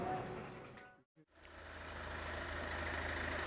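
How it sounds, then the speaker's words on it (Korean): Engine of a used car at a dealership running with a steady low hum, joined by a broad airy hiss, briefly cutting out before the running sound returns. "야, 이거 쉑쉑 소리 많이 나는데 이거?"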